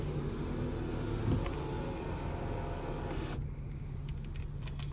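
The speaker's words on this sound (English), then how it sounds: "Let's take a look at the moonroof." A 2012 Acura MDX power moonroof motor hums steadily inside the cabin during a one-touch opening, a smooth close electric drone that cuts off part way through with faint clicks after.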